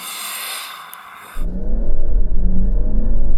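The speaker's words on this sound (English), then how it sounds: "Now let's see how quick this diesel version of the Mercedes GLS is from 0 to 60 miles an hour." A diesel Mercedes GLS SUV launches hard from a standstill toward 60 mph, its engine note swelling into a loud, rising rumble after a brief quieter idle, growing steadily in strength as it pulls.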